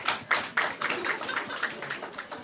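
An audience claps in a brief show of hands as a vote, a close, uneven patter of several people's hands with a few sharper claps at the start, settling into scattered clapping.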